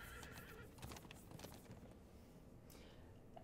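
A horse whinnies and neighs in The Walking Dead: A New Frontier video game, with clip-clop hoofbeats and game ambience; the whole passage is very quiet and distant.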